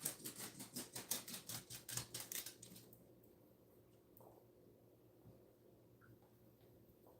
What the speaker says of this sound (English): Did you hear that? The clickety clackety of little bitty paws.